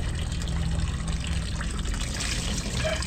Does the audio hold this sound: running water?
yes